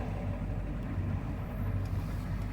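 A truck engine idles in four-low first gear with the foot off the gas, producing a faint, steady low rumble throughout.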